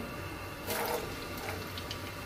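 Onions dropped into hot oil for anda khagina hit with a brief burst of sizzling hiss, then settle into a faint, steady crackle, quiet and close.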